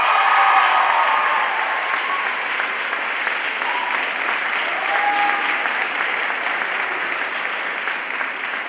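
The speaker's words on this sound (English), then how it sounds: "we would like to give you a round of applause for all you've done for this school and these boys" Audience applause for a school's teacher of the year, a dense, steady clapping of a large crowd that goes on throughout without easing, loud and close.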